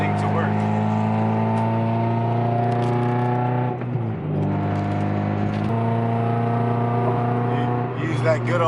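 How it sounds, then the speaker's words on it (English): A car with a swapped Honda K24 engine cruises in sixth gear. It gives a steady, loud, low engine drone with even harmonics, briefly dips in pitch around the middle, then settles back into a constant hum. "Use that good old 6th gear to pull me around"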